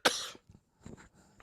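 A single sharp, loud cough bursts out at the start from a broadcaster with a cold during a blizzard weather report, followed by a few faint breathy sounds and small throat noises.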